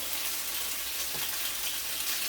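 A chicken parmesan cutlet frying in a single pan, giving a steady, close sizzle with a constant hiss and no talking.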